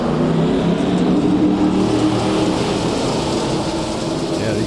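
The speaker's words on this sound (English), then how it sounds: "Yeah, these cars are loud tonight." Dirt late model race cars roar at full throttle around a speedway, a dense, continuous engine drone from several cars at once that stays loud and steady throughout.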